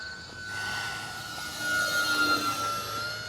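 An FMS Cessna 182 radio-controlled model airplane with a 1.5 m wingspan flies overhead at part throttle, its steady electric motor whine holding level and then swelling slightly louder midway as it passes nearer.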